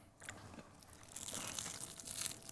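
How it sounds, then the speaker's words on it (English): Crisp, crackly crunching as someone bites into battered pull-apart bread flavoured with garlic, herb and mango atchar, a close, continuous crackle over about two seconds with no talking. "Wow, the crunch."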